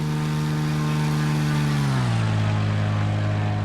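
A vintage-style propeller airplane, the freeware vFlyteair 1950 in X-Plane 11, roars past in a loud steady engine drone whose pitch drops sharply midway as it passes.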